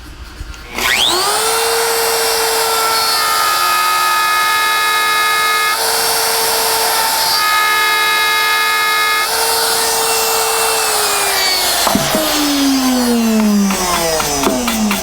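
A loud, steady high-pitched whine of a router bit spinning and cutting, sustained for several seconds before winding down.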